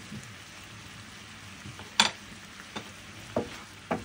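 Ampalaya (bitter melon) con carne with beef and mushrooms being stirred in a pan: a faint, steady low sizzle, with a few sharp scrapes and clacks of the utensil against the pan at irregular moments.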